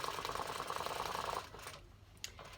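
Sewing machine stitching a seam on a fabric face mask near a nose clip, a fast, steady mechanical whir and needle chatter that runs for about a second and a half, then stops, leaving faint clicks and handling noise.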